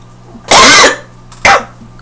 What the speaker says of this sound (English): I have a cough that started like about 3 days ago